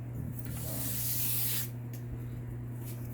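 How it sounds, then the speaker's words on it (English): Sandpaper rubs along the edge of a leather belt in a single soft scraping pass, close and fairly quiet over a low steady hum. "just sand it all in one direction"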